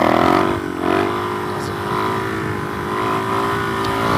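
A Suzuki DRZ 470 motorcycle with an FCR carburetor in second gear, its engine dropping off throttle and then pulling again, a close steady buzzing drone with a brief surge near the start.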